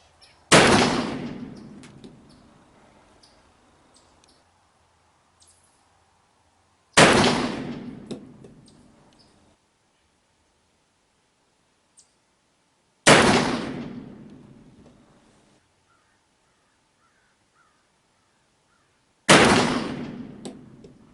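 Four loud, sharp revolver shots from a Pietta 1858 New Model Army black-powder revolver, each a sudden crack that decays over a second or two, spaced roughly six seconds apart with quiet between.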